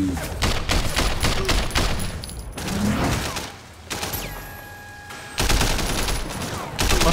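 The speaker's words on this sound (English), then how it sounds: "Blind firing in this game is pretty pointless" Dense blind gunfire in Sleeping Dogs, rapid bursts of shots hammering almost continuously in two long volleys with a brief lull between, loud and close.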